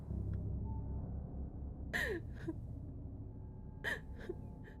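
Heavy breathing during breathing exercises while playing the horror game Outlast II, with two sharp, close gasping inhales about two seconds apart over a low, steady background rumble.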